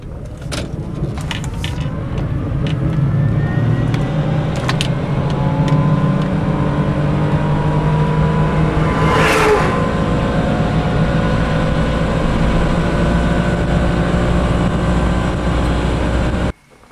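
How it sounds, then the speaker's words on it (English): An electric car pulls away from a stop sign in second gear without using the clutch, accelerating toward 30 mph: a loud, steady drive drone with a rising motor whine that cuts off abruptly at the end. "We're going to be pulling away from a stop sign in 2nd gear without a clutch."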